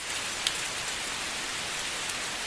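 Steady rain falls in a continuous even hiss, with a few faint drop ticks and no voices.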